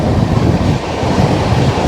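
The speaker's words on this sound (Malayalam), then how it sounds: "ഇനി പാറകൾ തുറന്നുകൊണ്ടുള്ള പാറകൾക്കിടയിലൂടെയുള്ള ട്രെയിൻ യാത്രയാണ് നമ്മൾ അനുഭവിക്കാൻ പോകുന്നത്" Train rolling steadily on rails through rocky terrain, with a continuous loud rumble and faint rhythmic clatter of wheels, heard alone without talk.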